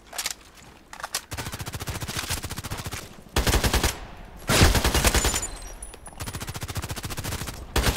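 Rapid gunfire in a sniper video game, long loud bursts of closely spaced shots with short gaps between volleys, dominant and close throughout.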